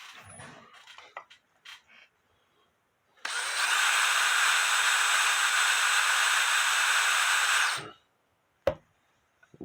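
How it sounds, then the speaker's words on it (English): A power drill spinning a cotton swab for cuckoo clock repair whirs at high speed for about four seconds, a steady buzzing whine that starts and stops abruptly amid quiet handling noises. "I shoved a Q-tip down in my drill."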